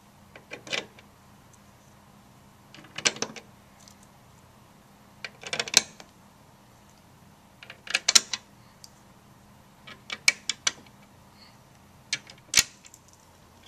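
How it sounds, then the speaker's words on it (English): Eight screws being driven to fasten the top onto an ECG simulator case, heard as short bursts of clicking and ratcheting repeated every couple of seconds, close and fairly quiet against a silent room. "The last and final step would be to secure your top onto your simulator using the 8 screws that you should have available."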